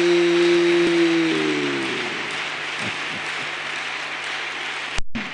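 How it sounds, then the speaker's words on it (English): A church congregation gives a sustained wash of applause as a clap offering, a steady broad roar of many hands after a held keyboard chord fades out. "We give you a clap offering."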